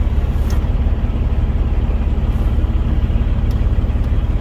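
A truck's heavy engine idles with a deep, steady rumble up close, while a car passes nearby. Faint squeaks cut in briefly, and no one speaks.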